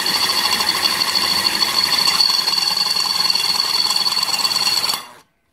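Power drill bit boring a hole, a loud continuous grinding whine with a high squealing tone that stops abruptly near the end.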